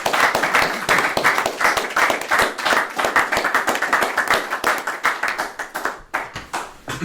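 Audience at a wildlife trust annual general meeting claps steadily for about seven seconds, a dense, close patter of many hands that thins slightly toward the end, with no talking over it.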